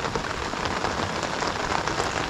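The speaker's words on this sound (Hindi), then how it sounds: "और अभी तो इतनी बढ़ गई है बारिश" Heavy, steady rain pours down at a campsite in cold weather, a dense continuous hiss of drops striking surfaces close by, loud and unbroken with no voices.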